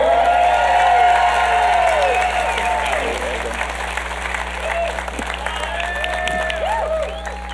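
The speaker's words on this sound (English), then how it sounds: "please leave a huge round of applause for our next speaker, Sean Clark." A memorial gathering's audience breaks into sustained applause and scattered cheers for the next speaker, a dense wash of clapping that stays loud and gradually thins, with some voices and whoops mixed in.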